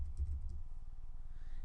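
Rapid keystrokes on a computer keyboard while entering text into a text box, a quiet, fast, even run of clicks close up with no voices.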